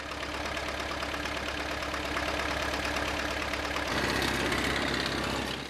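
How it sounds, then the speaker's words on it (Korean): Tractor built for mountain logging roads revving on snow-covered frozen ground in a cold Russian forest, wheels spinning in place; a steady close engine drone rises in pitch and loudness near the end as it strains, with no talking. "산길을 오르기 쉽게 만들어진 트랙터도 몇 번씩 공회전을 반복한다"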